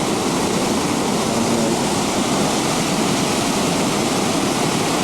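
Rushing river water at Great Falls roars in a steady, loud, continuous wash that fills the scene without pause, with no voices over it.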